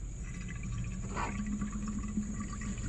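Motor oil poured from a gallon jug into the filler of a Mercury 9.9 four-stroke outboard during an oil change, a steady liquid gurgle running throughout against a constant background hum.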